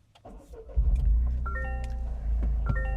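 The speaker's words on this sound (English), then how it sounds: "push the button here to fire up the engine." A 2025 Toyota GR Corolla manual hot hatch fires up: a brief starter whir, then the engine catches with a loud rising rumble and settles into a steady, close idle.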